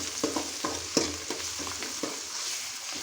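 Ginger and turmeric fry in hot oil with a bright, steady sizzle, punctuated by several rhythmic spatula scrapes and taps against the pan, close and clear, no talking.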